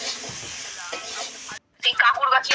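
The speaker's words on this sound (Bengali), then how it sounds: "আমি এই আলুগুলোকে না নাড়াচাড়া করবো করতে করতে এগুলো হচ্ছে ভাজা হয়ে যাবে" Potatoes frying in a pan on a village clay stove, a steady sizzle for over a second before a brief pause, then sharper scraping and stirring clatters with spitting oil, close by, with no talk.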